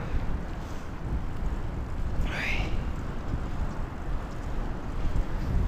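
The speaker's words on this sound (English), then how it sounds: "This wind, man, it's nasty." Strong wind buffets the microphone with a continuous low, rough rumble that stays loud and unbroken from start to finish. No voices are heard.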